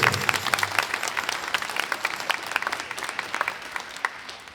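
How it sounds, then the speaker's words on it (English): Audience applause at a high school jazz band concert, many hands clapping in a crisp, sustained patter that gradually thins and softens. "a heartfelt round of applause for the video crew"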